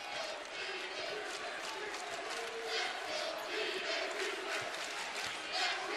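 A large home crowd roars and murmurs steadily through a college basketball game between Green Bay and Wisconsin-Milwaukee, a dense, loud wash of voices with no clear individual words.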